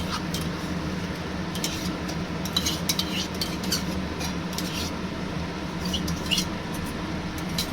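Mutton curry masala mixed with whisked sour yogurt, a little sugar and water, stirred in a pan with a spoon scraping and clinking repeatedly over a low steady sizzle, close and continuous.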